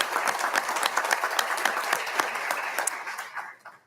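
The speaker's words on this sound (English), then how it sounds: "Would you please rise and give her a round of applause for all the work she does for her student?" Meeting audience at a school board of trustees session breaks into sustained applause, dense overlapping clapping that holds steady for about three seconds before thinning and fading out.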